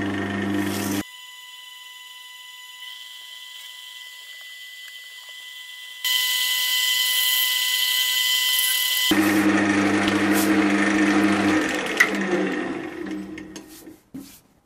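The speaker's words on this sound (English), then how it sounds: "So I'm just going to run the lathe for a little while" A wood lathe spinning a resin and cork vase blank, a steady mechanical whir with a constant hum that changes in pitch and intensity partway through, then brighter scraping texture toward the end.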